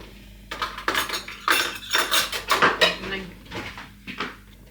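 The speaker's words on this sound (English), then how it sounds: "Get a knife to make sure it's spread out nicely" A knife scrapes and taps against wraps and a plate while spreading barbecue sauce, giving a run of close, sharp clinks and scrapes in an irregular rhythm.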